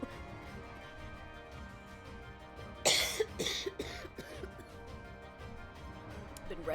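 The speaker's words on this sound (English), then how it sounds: "I'm trying not to cough directly into the mic" A streamer with a heavy chesty cough hacks a few times close to the microphone, a sharp burst followed by smaller coughs and throat clearing, over a low steady background hum.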